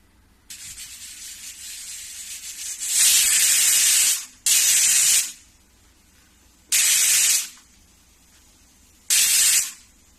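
Pressure cooker on a gas stove whistling as it vents steam: a steady low hiss, then four loud, sharp bursts of rushing steam, each lasting about a second, with short quiet gaps between them.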